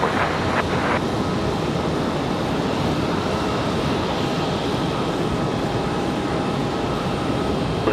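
An American Airlines jet arriving at Raleigh-Durham airport from LAX gives a steady, loud broadband engine roar that holds evenly throughout, with a faint tonal whine running underneath.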